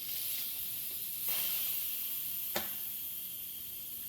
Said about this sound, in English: manually release the rest of the pressure